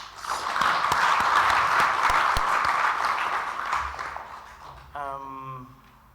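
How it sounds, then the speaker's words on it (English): An audience at a regional learning conference's opening session breaks into sustained applause, the clapping swelling, holding steady, then tapering off, with a voice starting to speak near the end. "a special hand of applause for the peers."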